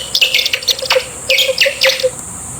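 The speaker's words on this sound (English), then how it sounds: "Bat." Bat calls: a quick series of sharp, high, chirping squeaks in irregular bursts, close and clear, with nothing else heard.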